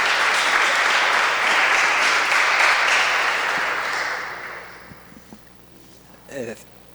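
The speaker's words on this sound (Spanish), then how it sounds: "Los recibimos con un aplauso también" Audience at a maritime cultural heritage lecture applauding to welcome the commander of the training ship Juan Sebastián de Elcano, a loud, sustained crowd clapping for about four seconds that then fades out, followed by a speaker beginning to talk.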